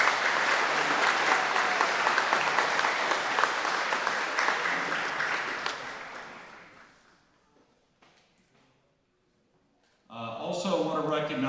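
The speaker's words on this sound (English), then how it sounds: "All right, how about another round of applause for this group of candidates here?" Audience applause for a group of political candidates at a county Republican meet-the-candidates event, a dense sustained clapping that fades out after about seven seconds, followed by a short lull and then a voice speaking.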